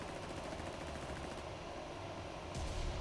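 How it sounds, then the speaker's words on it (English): Grenade explosion in the battle royale game Apex Legends, a sudden burst near the end rising over dense, continuous game noise and gunfire-like clatter. "Oh, I hit someone with my nade."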